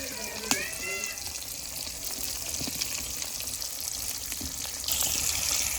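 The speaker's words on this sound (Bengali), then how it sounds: "এই যে মাছ ভাজা হচ্ছে" Fish sizzles and crackles in a pan of oil as it fries for a curry. The hiss is steady and fairly close, with a couple of sharp clinks and a brief voice at times.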